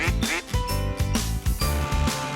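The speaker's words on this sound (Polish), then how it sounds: "Kaczka robi kwa kwa." A cartoon duck on a children's farm-animal show quacks repeatedly in a loud, evenly spaced series of bright, nasal quacks, close and alone without talk.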